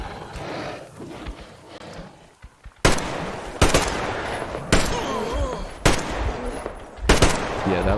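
Gunfire in the shooter game Metro Exodus: five loud, sharp shots spaced about a second apart ring out over a rumbling ambient backdrop, each with a brief echoing tail.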